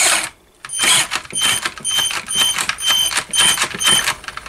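A Tamiya Rising Fighter RC car transmission runs on battery power while held in the hand, producing a loud gear whine with a rapid rattling, pulsing rhythm that surges and eases in repeated bursts after a brief pause.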